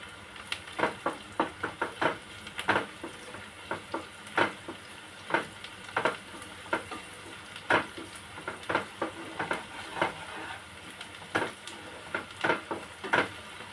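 Onions fry with salt in a home kitchen pan for a spicy chicken curry, a steady close sizzle broken by frequent sharp clinks and scrapes of stirring at an irregular rhythm, with no voices.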